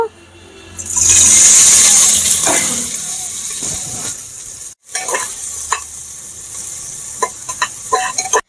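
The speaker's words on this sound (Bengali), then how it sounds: "দেখুন এখানে পেঁয়াজ নিয়েছি, গরম তেলের মধ্যে দিয়ে দেব।" Chopped onions drop into hot mustard oil with a loud burst of sizzling that holds steady for a few seconds, then eases into quieter crackling and occasional stirring clicks.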